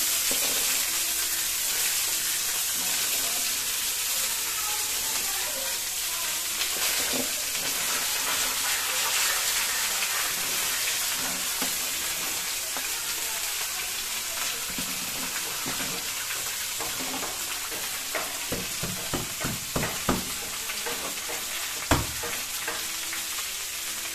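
Dried cabbage frying and being stirred in a hot pan for a Bengali cabbage and egg dish, a steady loud sizzle throughout with scraping stirs and sharper clatters of the utensil toward the end.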